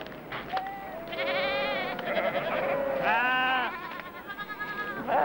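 A flock of sheep bleats in a series of loud, quavering calls that overlap and follow one another for several seconds, fairly close and with little talk over them.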